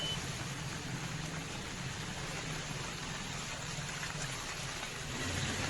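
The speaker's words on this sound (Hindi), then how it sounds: "मानसून की बारिश जब कल से शुरू हुई है तब से लगातार यहाँ पर बारिश हो रही है" Steady monsoon rain pours over a flooded underpass area at Ranipur Mor in Haridwar, a continuous broadband hiss with no breaks throughout.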